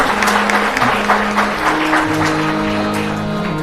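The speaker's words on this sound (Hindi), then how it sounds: "बहुत तालियों का द्वारा आदर और धन्यवाद करते हैं।" A seated audience at a Shiv Katha religious discourse gives a guest loud, close applause that stays dense throughout, with a sustained musical tone running beneath the clapping.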